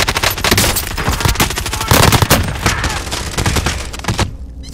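Sustained video game gunfire, dense rapid automatic bursts and overlapping shots filling the whole stretch loudly, ending in a brief quieter tail.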